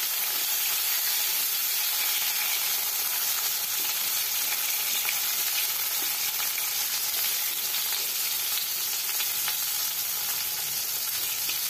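Eggplant pieces coated in turmeric and salt fry in hot mustard oil, a dense, steady sizzle and crackle that continues evenly throughout, with no voices.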